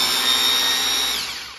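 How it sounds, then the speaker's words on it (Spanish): A TOTAL 650W rotary hammer drills in hammer-and-rotation mode with a loud, continuous high-pitched whine and grinding buzz that winds down slightly at the end. "vamos con la otra función, que es rotomartillo, martillo más broca"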